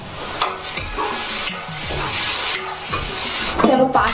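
Hot oil sizzles and crackles while a utensil stirs, with clinks and bursts of spattering as tempering spices hit the pan.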